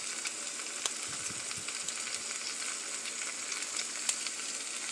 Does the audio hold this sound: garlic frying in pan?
yes